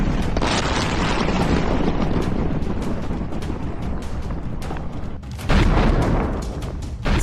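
Heavy bombing explosions in Kermanshah, Iran, rumble as a dense, continuous roar of low booms, with a sharper blast surging near the end, loud and with no voices.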